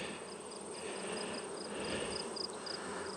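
Honey bees humming around an opened beehive in August, a faint steady buzz close by with a regular high chirping pulse layered over it, no voices.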